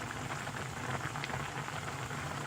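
Aged kimchi stew with tofu and a spoonful of chili flakes boils in a pot, giving a steady, close bubbling and crackling that runs on without pause.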